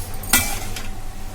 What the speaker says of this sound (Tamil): ரைஸ் ஆட் பண்ணிவிட்டு நல்லா ஸ்டவ்வை சிம்மில் வச்சுட்டு நல்லா கிளறி விடுங்க